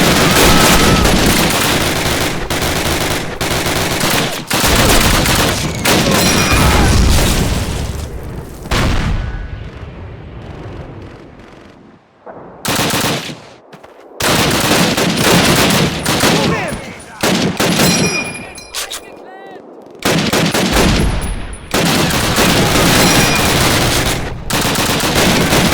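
Heavy gunfire in the Call of Duty video game, with sustained automatic bursts and booming shots in loud, dense volleys, broken by a few brief lulls before the firing resumes.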